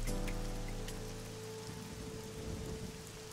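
Steady rain patters on an umbrella in the game AI: The Somnium Files alongside a low sustained electronic hum, a soft constant downpour with no talking.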